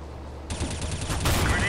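Rapid bursts of gunfire in Counter-Strike: Global Offensive, a quick volley of game gunshots starting after a brief pause and growing louder, with some talk underneath.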